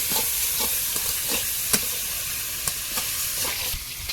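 Snakehead fish frying in hot oil, a constant sizzle punctuated by sharp crackles and spits at irregular intervals, close and fairly loud.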